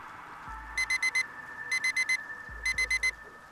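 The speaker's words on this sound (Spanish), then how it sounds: "El sonido de mi teléfono con la alarma me despertó de repente." A phone alarm beeps in three bursts of four rapid, high-pitched electronic tones, evenly spaced and close, over a faint background hiss.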